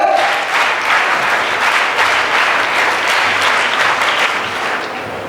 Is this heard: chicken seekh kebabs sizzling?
no